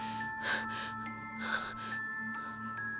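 Heavy, rhythmic panting breaths, a few ragged gasps close to the ear, over a steady low electronic hum.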